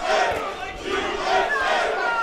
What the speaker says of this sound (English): Crowd chanting USA.